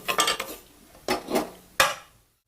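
Roasted sanja, a Maharashtrian semolina dish, scraped from a pan onto a plate: three separate bursts of metal utensil scraping and clinking against cookware, each fading before the next, ending in silence.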